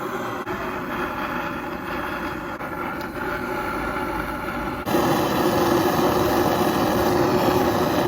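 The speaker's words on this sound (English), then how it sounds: "so 2 things I'm doing with the torch" Steady roaring hiss of a torch flame burning moisture off a Nissan 350Z differential before welding, continuous and close, growing louder partway through.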